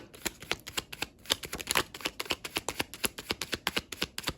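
Tarot cards are riffled and shuffled in a fast, continuous patter of crisp flicks, close and fairly quiet, with no talking.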